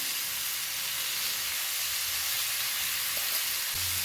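Tomatoes with turmeric fry in a pan for a traditional bitter gourd stir-fry, giving a steady, even sizzling hiss that runs throughout without any speech.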